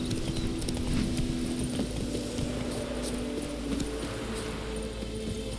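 The horse Roach trotting in The Witcher 3: Wild Hunt, a steady clip-clop of hooves over a constant loud bed of ambient wind and outdoor game noise, with no talk.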